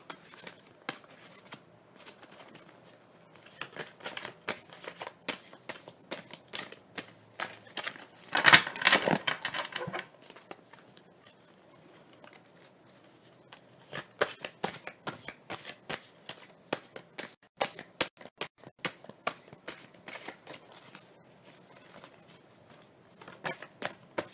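A deck of healing energy cards is shuffled near the microphone in quick papery riffles and flicks, with one louder burst of shuffling early on and scattered taps and slides afterwards.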